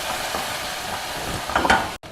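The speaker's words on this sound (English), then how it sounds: "Just stir fry it for a few minutes." Soaked moong dal stir-fried in a pan with chillies, hing and jeera gives a soft steady sizzle, with a few brief scraping stirs near the end before it cuts off.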